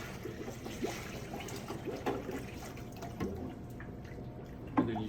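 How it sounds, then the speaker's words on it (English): Cool water poured into the hopper of a Taylor C002 soft-serve dispenser, a steady splashing and trickling fill with occasional drips and knocks, close and continuous, no talking. "you pour 2 gallons of cool water into the hopper"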